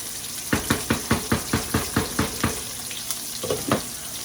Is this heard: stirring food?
yes